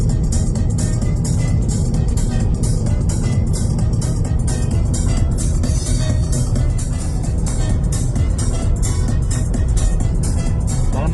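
Car driving along a road during a driving test, a loud, steady engine and tyre rumble with constant road noise throughout and no clear talk.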